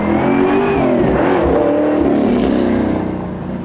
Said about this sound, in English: 6-speed manual transmission with the stacks, plenty of torque, lots of fun to drive, and they sound